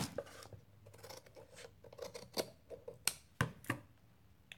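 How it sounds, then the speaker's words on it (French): Scissors snip through paper while shaping the back of a paper house craft, a series of short, sharp cuts in an irregular rhythm, close up and fairly quiet. "Donc, on va le faire au ciseau, tant pis"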